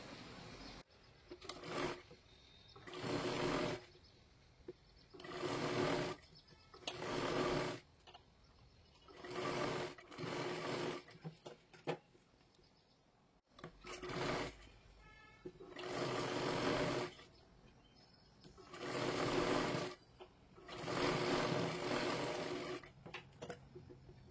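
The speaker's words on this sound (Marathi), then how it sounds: "अशा पद्धतीने एकदम कडेकडेला आपल्याला शिलाई सुद्धा मारून घ्यायची आहे" Sewing machine stitching along the folded edge of a sleeve, a series of about ten short runs of close, steady motor whir and needle chatter separated by brief quiet gaps.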